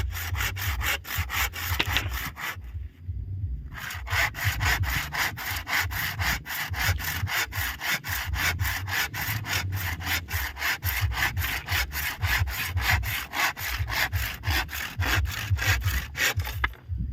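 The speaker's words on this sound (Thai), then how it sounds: "แก้วเพิ่นก็สิเลื่อยมาอีกแล้วนี่" Steady back-and-forth hand sawing through wood for a chicken coop roof, a rhythmic rasping stroke repeated continuously, close by, with one brief pause early on.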